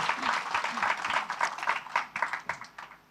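A church congregation claps together, the applause rising and falling in bursts with a few voices mixed in, moderately loud and close.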